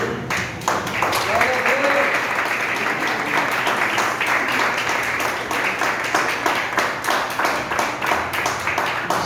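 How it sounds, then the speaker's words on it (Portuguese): Applause from a church congregation during a worship service, steady broadband clapping filling the room and continuing throughout at a fairly loud, even level. "Eu acho que essas palmas foram para mim."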